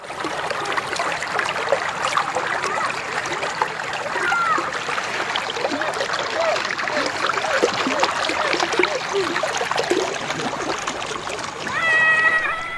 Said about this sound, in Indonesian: Air sungai yang mengalir dari sumber mata air Gunung Betung